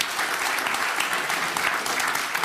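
A crowd at a Destiny 2 Shadowkeep gameplay presentation cheers and applauds loudly and continuously, a dense roar of claps and shouts with no break.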